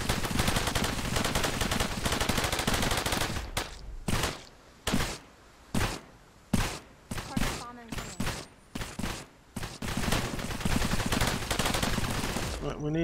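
Gunfire rattles in the video game Cepheus Protocol. Sustained automatic bursts come first, then separate loud shots with pauses between them, and dense fire picks up again at the end.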